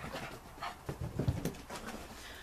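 A pug plays tug of war, giving soft panting, whimpers and small grunting snorts at close range. The sounds come in uneven bursts, with no speech.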